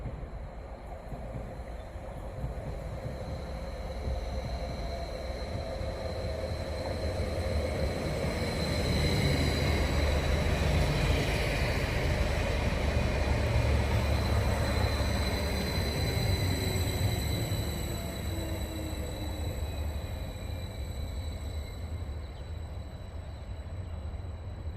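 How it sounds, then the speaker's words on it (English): A Greater Anglia train passing through Stowmarket station without stopping, a sustained rumbling roar that swells in the middle and slowly fades, heard from the platform with no talk. "another one is passing without stopping"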